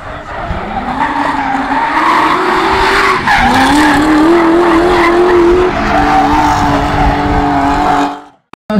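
A drift car skids through a turn at a drift event in Jelgava, with a loud, sustained tire squeal that rises and wavers over the engine for several seconds before cutting off abruptly.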